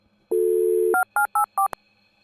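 Telephone dialing 911: a steady dial tone, then three short keypad tones in quick succession, ending with a sharp click, close and clear with no talk.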